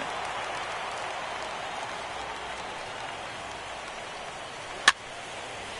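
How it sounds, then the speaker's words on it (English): Steady rain falling over a baseball stadium in the video game MLB The Show 17, a continuous soft broadband hiss throughout with one brief sharp click near the end, no voices. "Rain continues to fall here in the 6th."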